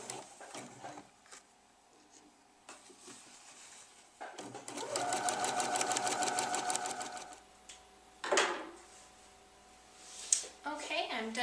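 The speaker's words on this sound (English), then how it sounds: "then keep stretching and sewing all the way around until you get back to the beginning" A sewing machine runs stitches around a knit sport elastic waistband, a close, fast mechanical rattle that builds and holds for a couple of seconds, with quieter handling noises and faint talk around it.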